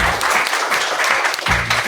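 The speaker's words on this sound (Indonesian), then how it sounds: "boleh tepuk tangan." Loud, close applause from a classroom audience after a group presentation, a brief burst of clapping that swells, dips briefly and picks up again.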